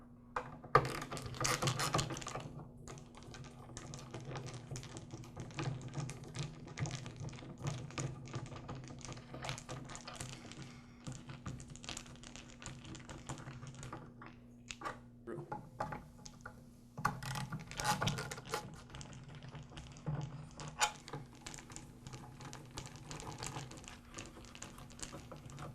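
Screws being backed out of the top handle assembly on a DeWALT DW703 miter saw, a steady run of soft ticking, ratcheting and tapping clatter at close range over a constant low hum.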